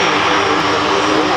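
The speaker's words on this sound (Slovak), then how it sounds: "Spartan je naozaj moderné a efektívne taktické transportné lietadlo, ktoré si zaslúži našu pozornosť." A C-27J Spartan tactical transport aircraft at an air show gives a loud, steady, close turboprop engine roar that fills the whole moment without a break.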